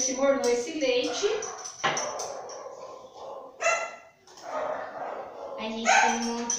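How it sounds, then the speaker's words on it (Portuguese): Dogs bark and yip out on the street beyond a home kitchen where bread is being made, irregular barks heard over nearby talking. "A gente tem um monte de cachorro lá fora da rua"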